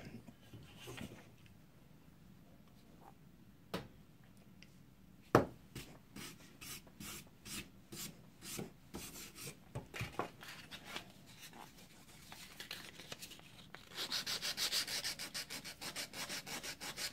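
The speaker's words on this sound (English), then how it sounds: "I am scuffing the handle a little bit" Handle of an old edge tool being scuffed and rubbed by hand during restoration, a close, soft sanding rasp with scattered sharp clicks and taps, growing denser and louder toward the end.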